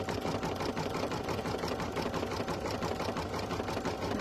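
Sewing machine stitching an appliqué design at high speed, a continuous rapid mechanical chatter, steady and fairly faint throughout with no voices.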